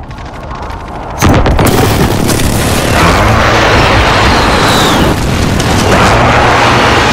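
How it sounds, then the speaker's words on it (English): Precision airstrike explosions in Call of Duty: Modern Warfare, a loud booming blast at about one second followed by sustained rumbling, crackling detonations for several seconds, with no talk. "Be advised, friendly precision airstrike inbound."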